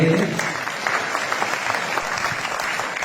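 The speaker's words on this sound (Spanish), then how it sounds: "Fuerte los aplausos por favor para él." Audience applause fills a hall at the third health congress at Universidad Bolivariana del Ecuador, a dense, steady clatter of many hands lasting the whole moment without a break.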